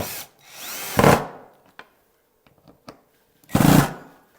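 Two short, loud bursts of a power drill driving screws into wood whir up and stop, separated by quiet pauses with small tapping and handling clicks.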